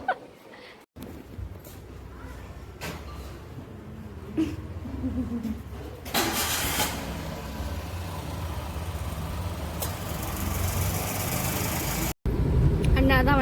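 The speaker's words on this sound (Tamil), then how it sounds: "அண்ணா தான் வண்டி ஓட்டுறாரு" A car engine runs steadily from inside the vehicle as it is driven in Trichy, a low hum under ongoing conversation, with a brief cut midway.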